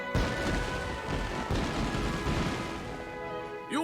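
Fireworks go off during a town celebration in Ni No Kuni: Wrath of the White Witch, a steady barrage of booming bursts and crackling pops layered over game music, loud throughout the clip.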